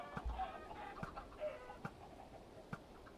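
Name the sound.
chickens clucking in a video game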